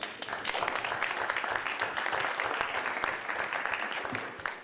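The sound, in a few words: audience applause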